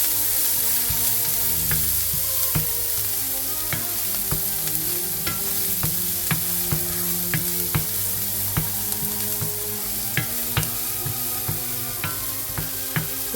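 Onion frying in a pan for a beef and rice bowl, a steady close sizzle with repeated clicks and scrapes from stirring.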